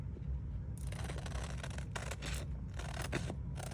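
Borders being trimmed off a transfer sheet for a thrift-store furniture flip: a quiet start, then close, steady rasping cuts in uneven bursts, with no talking.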